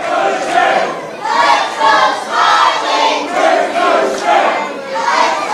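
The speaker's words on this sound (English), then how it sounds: "All the adults chanting for Ricochet, all the kids chanting for Smiley." Wrestling crowd at a Ricochet vs Smiley match chanting in rhythmic, repeating waves, loud and sustained, with adults and kids calling out the two wrestlers.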